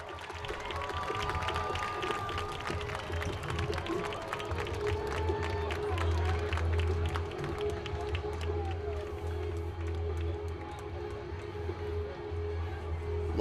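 Home crowd at a Tonganoxie Chieftains high school football game on senior night, a steady roar of cheering and scattered clapping as the team runs out, with a public-address voice and a sustained band tone underneath.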